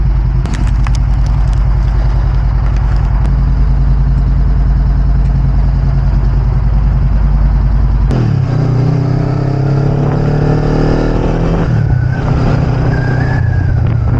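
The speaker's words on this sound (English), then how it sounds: "Already got the bike started up, it's ride time" A motorcycle engine runs steadily and loudly while riding, with a deep rumbling drone that drops and shifts pitch around eight seconds in and again near twelve, as the bike changes speed.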